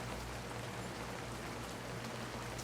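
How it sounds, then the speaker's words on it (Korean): Steady, soft rain patters continuously in a quiet story setting, an even hiss with faint droplet ticks and no voices. "바로 토독토독 비가 내리는 소리였어요."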